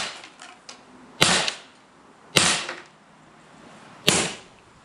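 Spring-powered BB pellet gun firing metal BBs: three sharp, loud snapping shots a little over a second apart, each with a short decaying tail, preceded by faint mechanical clicks, close and without talk.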